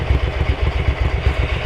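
Ducati 900SS bevel-drive engine idling during a carburettor sync, a close, loud, steady, lumpy thrumming pulse with an even rhythm and no voices.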